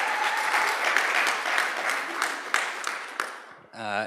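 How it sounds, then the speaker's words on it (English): A round of audience applause for panel host Carolina at a training conference, steady clapping that thins and fades out near the end, followed by a brief electronic tone. "Can I just one more round of applause for Carolina?"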